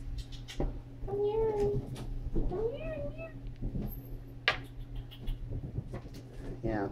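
Several pet cats give high, rising meows indoors, a few short calls spread through the stretch, mixed with a person talking and a steady low hum in the room.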